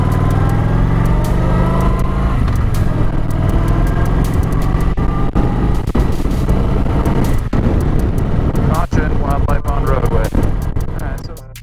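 Motorcycle ridden on a long-distance road trip near Yellowstone, a loud continuous engine drone mixed with heavy wind rush, with a rider's voice talking over it throughout.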